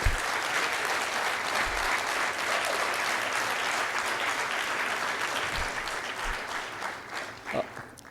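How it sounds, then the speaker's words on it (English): Audience applause at a business school event, a thick sustained wall of clapping from a large room that holds steady for several seconds, then loosens and tapers into a handful of separate claps and a few low thumps. "Big round of applause to all of them, please."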